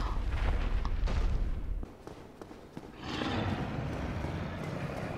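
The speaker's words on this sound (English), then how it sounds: "That was the sound of freaking a giant dragon growling." A giant dragon in the video game Dark Souls lets out a deep, rumbling growl with heavy low-end booms, loud at first, dipping briefly, then swelling again into a rough sustained roar.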